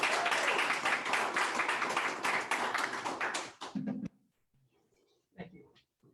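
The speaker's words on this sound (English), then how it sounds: "Please help me give a warm round of applause to Frank as he takes the stand" Audience at a graduation ceremony applauding with a burst of steady clapping that abruptly stops, followed by a few faint thumps and quiet movement.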